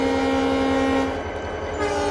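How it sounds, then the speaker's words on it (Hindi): Locomotive horn in the Trainz Simulator video game on the Amarkantak Express, a loud sustained tonal blast that cuts off after about a second, leaving rumbling train noise underneath. "यहाँ पर मैं बजा रहा हूँ हॉर्न यानी कि रिंग बेल"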